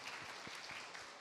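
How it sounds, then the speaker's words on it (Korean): An audience claps at a televised science lecture about Korean scientists and the Nobel Prize. The applause is brief, faint and distant, with a steady patter of many hands and no voices over it. "박수 한번 부탁드려보도록 하겠습니다."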